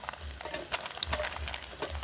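Curry leaves fry in a pan, a soft, fairly quiet crackle and sizzle with light scraping stirs and occasional sharper pops.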